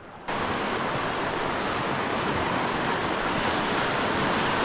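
Rushing river water through a chute on the Bowron canoe circuit, a loud, steady broadband roar that swells in abruptly and stays constant, close by, with no talking.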